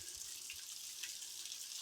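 A small creek with only a little flow trickles steadily, a soft continuous wash of water running alone with no voices.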